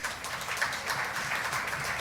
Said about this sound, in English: Yeah, give them a round of applause for that.